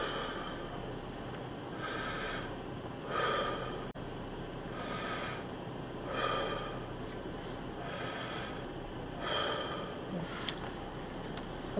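A patient takes slow, deep breaths during a lung exam, each inhale and exhale a soft airy rush, close and distinct, coming in a regular rhythm about every three seconds with no talking.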